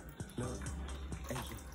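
Water running and draining out the back of a portable sink, a steady close trickling splash under soft talk.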